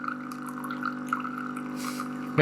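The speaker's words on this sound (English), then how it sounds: "that's water coming out." Water trickles and drips from a Coffee B coffee machine over its steady, droning hum, ending with a brief louder clatter.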